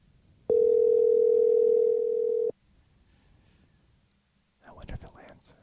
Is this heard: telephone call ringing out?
yes